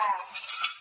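Small toy kitchen utensils, such as a little wok and pans, clink and rattle briefly as they are handled, one short bright metallic jingle.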